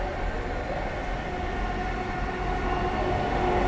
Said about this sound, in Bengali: ফাইনালি ট্রেন চলে আসছে, এই যে